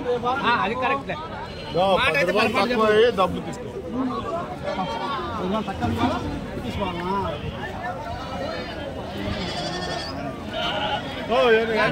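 Several goats bleat repeatedly in wavering cries, close by at the weekly Kadiri sheep and goat market, while people talk over them.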